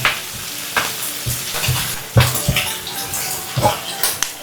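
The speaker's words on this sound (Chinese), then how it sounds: "快速翻拌均匀，让鸡蛋和四季豆充分融合。" Green beans and eggs stir-fried together in a wok, with steady sizzling and repeated scraping tosses of a spatula in an irregular rhythm, close and fairly loud.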